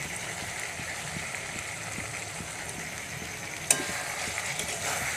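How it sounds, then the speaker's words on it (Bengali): Garam masala being stirred into a potato dum curry in a pan, a continuous soft sizzle with light scraping of the spoon and one sharp knock near the end, no speech. "গরম মশলাটা ভালো করে মিশিয়ে দিলাম"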